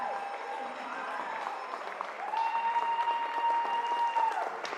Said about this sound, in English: Great applause by their support teams.